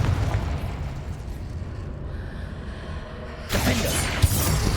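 A Confringo explosion spell from Hogwarts Legacy: a broad, rumbling blast carries through, then a sharper burst with a brief bright crack rings out, full and loud against ongoing game noise.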